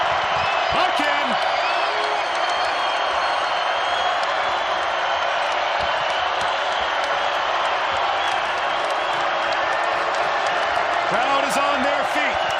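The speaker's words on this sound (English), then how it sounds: "Crowd is on their feet" A basketball arena crowd cheering at an NCAA men's game between Nevada and Colorado State, a loud, steady roar filling the space with occasional sneaker squeaks, while a commentator talks over it.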